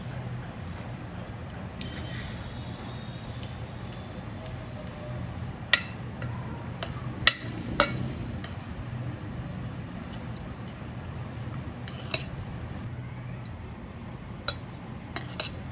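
Boiled mung bean bhel being mixed with coriander and sev in a bowl, a few sharp spoon clinks and scrapes rising over a steady low background hum, no talking.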